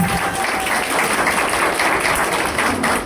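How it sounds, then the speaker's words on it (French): Wedding guests applaud at a civil marriage ceremony in a Paris town hall, a dense, steady wash of clapping that fills the room continuously for the full stretch without pause. "Sous vos applaudissements, je vous prie."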